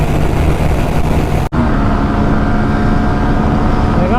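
Two 160cc motorcycles, a TVS Apache RTR 160 and a Bajaj Pulsar NS 160, drag racing at speed: a steady, loud engine drone with a rising whine and wind rush, briefly cut by a sharp dropout midway before the roar resumes.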